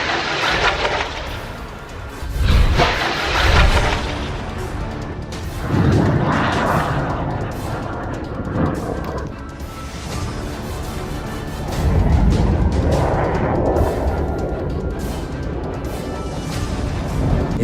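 Rocket barrage striking a military base in Gaza, a dense rumbling series of heavy booms and crashes that swell repeatedly over a continuous low roar, with no speech.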